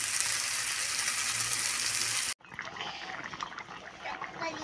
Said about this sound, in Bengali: তরকারিটা এটি ফুটছে